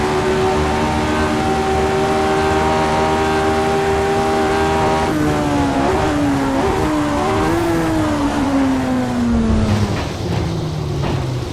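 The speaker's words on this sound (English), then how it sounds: "This car is basically a giant bathtub full of rocket fuel strapped to a 500-ish horsepower V8." A race car with a roughly 500-horsepower V8 drives loud and close, its engine note holding steady, then rising and falling through shifts and revs, with a brief squeal-like edge near the end.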